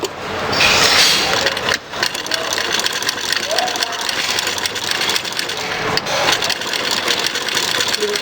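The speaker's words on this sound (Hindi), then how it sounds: "मैं सिलाई लगा के आपको बताती हूँ।" A sewing machine runs steadily while stitching trousers, a loud continuous mechanical whir close by with one brief pause near the start, and someone talks over it.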